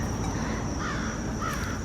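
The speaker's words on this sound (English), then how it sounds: "I hear crows." Crows caw a couple of times in the distance over steady outdoor background noise and a constant high insect-like whine.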